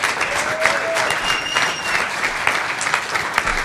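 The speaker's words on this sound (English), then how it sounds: "let's actually get another round of applause for him" Sustained audience applause after a startup pitch at a recipes event, dense even clapping from a sizeable crowd lasting throughout without letup.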